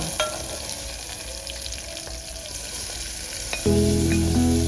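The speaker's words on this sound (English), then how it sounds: "So then I proceeded to start frying my onions, and tomatoes, so that I can fry my Malewa." Onions and tomatoes frying and being stirred in a pan, a steady close sizzle with scraping stirs, growing louder and denser near the end.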